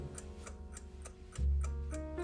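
An old football match timer clock ticks steadily at close range, with about seven or eight evenly spaced clicks. A low hum swells partway through.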